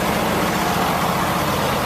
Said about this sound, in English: some idiot is idling next to me